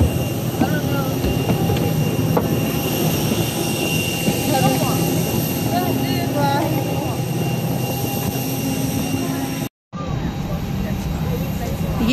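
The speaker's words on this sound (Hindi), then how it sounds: "ये हमारा है ब्रिटिश एयरवे का और ये दूसरा लगा हुआ है और वो दूसरे जहाज़ हैं।" British Airways airliners parked at an airport gate while luggage is loaded, producing a loud, steady jet-engine roar and whine throughout, with people talking nearby and a brief cut in the sound near the end.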